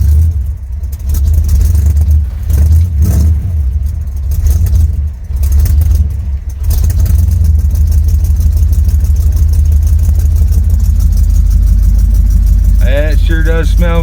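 A 1977 Chevy truck's 454 big-block V8 idles after a cold start: a loud, steady, deep rumble with a few uneven surges early on, then a smoother idle, and a brief voice near the end.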